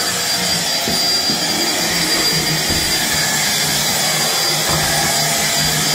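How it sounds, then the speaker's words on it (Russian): A vacuum cleaner runs loud and close with a steady, harsh whining roar that holds unchanged throughout, with no voices over it. "Мне кто-то сказал, такой противный звук на вашем пылесосе."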